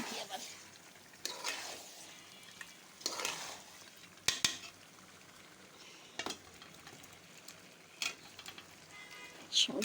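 Chicken gizzard, liver, bones and potatoes are stir-fried in a pan, giving a soft sizzle under repeated scraping and clattering strokes of a spatula, fairly quiet with intermittent sharper knocks.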